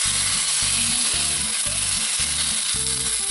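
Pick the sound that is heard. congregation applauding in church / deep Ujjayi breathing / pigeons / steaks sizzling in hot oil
steaks sizzling in hot oil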